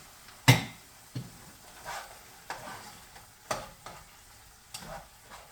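Meat frying in a pan for a cheeseburger pie, seasoned with onion salt: a steady sizzle broken by a series of scrapes and stirring knocks every second or so, close by, with no speech.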